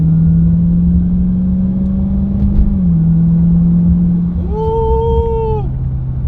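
A 2022 wide-body Dodge Charger Hellcat on a road drones loudly and steadily under light throttle, its pitch easing, then a whining note swells as it accelerates, then fades.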